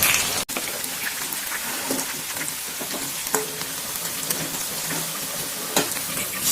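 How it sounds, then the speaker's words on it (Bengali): Onions fry in oil for parda biryani, giving a dense, continuous close-up sizzle like steady rain, with a few louder pops and crackles scattered through. "এদিকে মাংস কাজ চলছে আর ওইদিকে পেঁয়াজ ভাজা চলছে।"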